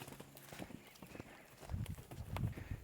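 A horse moves around a round pen, its hoofbeats thudding in an irregular rhythm that grows louder and heavier toward the end, faint and close against quiet surroundings.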